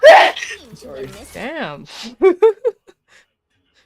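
A person lets out one sharp, loud sneeze up close, then voices follow with brief talk and short vocal bursts.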